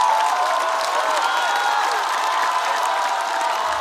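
A studio audience at a stand-up comedy competition show applauds and cheers steadily, dense clapping mixed with whoops holding at full loudness throughout, with no talk over it.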